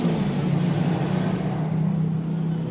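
A Motorstar Easyride 150fi motorcycle engine runs at a steady idle, a low, even droning hum heard close up and alone.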